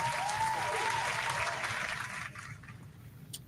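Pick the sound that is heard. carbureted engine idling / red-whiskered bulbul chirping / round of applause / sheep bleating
round of applause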